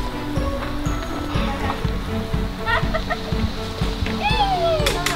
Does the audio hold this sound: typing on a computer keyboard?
no